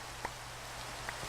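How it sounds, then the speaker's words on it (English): Soft steady rain patter falls across a blocky Minecraft landscape, a faint continuous hiss with a couple of light taps, heard alone with no talking. "It's raining, very dreary."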